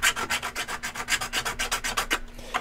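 Hand sanding around joints that are about to be epoxied during a build: a quick, steady run of about a dozen rhythmic rubbing strokes, close and fairly loud, stopping abruptly near the end.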